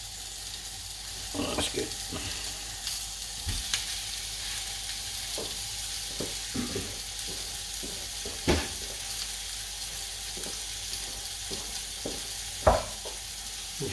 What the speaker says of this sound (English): Got a sizzle going on. Can you hear that?